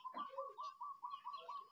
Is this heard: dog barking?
no